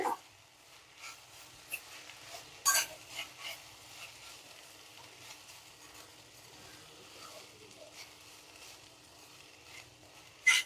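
A spoon scrapes and clinks as cooked rice is stirred into a spiced mixture in a pan. Soft sizzling runs underneath, and a few sharper knocks stand out against the quiet background.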